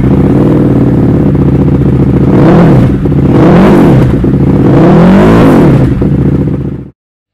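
A 2008 Buell 1125R sport motorcycle engine revs hard and loud up close, rising and falling in several throttle blips before cutting off abruptly.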